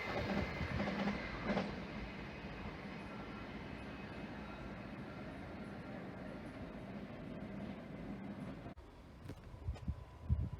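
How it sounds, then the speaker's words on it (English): An East Midlands Railway train pulls into Liverpool South Parkway station with a steady, moderately loud rumble and hum that holds for several seconds before easing, followed by a few brief knocks and clatters near the end. "Arriving now is the delayed 13:15 East Midlands Railway service from Norwich to Liverpool Lime Street."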